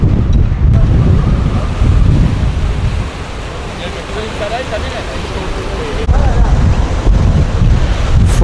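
Gale-force wind on the sea in the Bay of Biscay buffets the microphone with loud, roaring gusts over a rushing surf-like wash, easing briefly mid-way before surging again.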